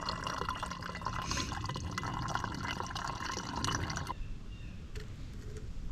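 Water fills a plastic bottle at a trail water source on the Appalachian Trail, a steady close trickle and splash that stops abruptly partway, leaving quiet outdoor ambience with a few faint drips.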